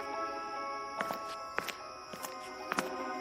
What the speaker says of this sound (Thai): โรเบิร์ตเดินอย่างรวดเร็ว พร้อมกับหิ้วกระเป๋าและปืนของเขา